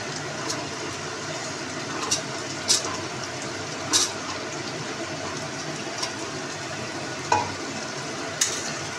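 Ghee added to a pan of pointed gourd curry fizzes in a soft steady sizzle, with a few sharp clinks of a utensil against the pan scattered through, close and without talk.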